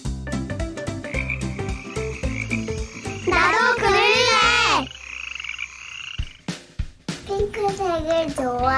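A frog croaks in a repeated, wavering run during a children's paper-folding segment, loud and close, with cheerful music and a voice around it.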